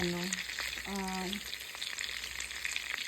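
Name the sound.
food frying in a pan on the stove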